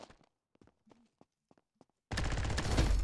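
Heavy minigun fire erupts in the Combat Master shooter, a loud, sustained roaring burst that starts abruptly after a stretch of faint scattered clicks and taps and continues without pause.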